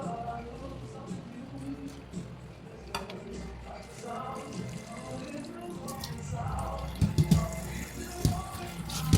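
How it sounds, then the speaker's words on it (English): Drained bitter melon is rinsed under a running kitchen tap, water splashing and gurgling at moderate loudness with some clatter, growing busier toward the end while a person talks over it. "Drain it, then she's going to rinse it."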